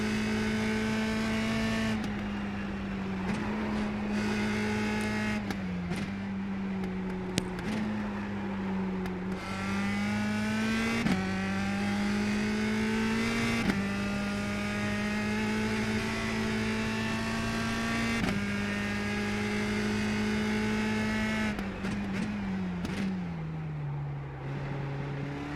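Race car engine in iRacing at Barber Motorsports Park heard from the cockpit over a lap, loud and constant, with pitch climbing through each gear and dropping sharply at shifts and braking, repeating through the lap.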